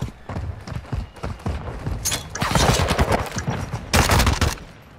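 Rapid gunfire from the video game Modern Warfare 2, with dense bursts of close, sharp shots that repeat in quick clusters and grow louder toward the end.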